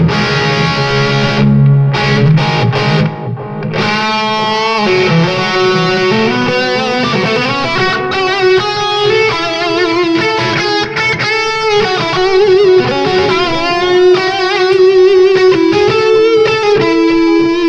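Distorted electric guitar lead through a Yamaha THR10 amp on its modern lead setting with delay and room reverb, sustained melodic notes and bends played steadily for a long stretch, loud and close with echoing tails and no talk.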